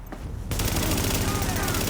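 Rapid automatic gunfire from a weapon in the video game The Division, a dense continuous stream of shots that bursts in loud after a brief quiet start and holds steady to the end.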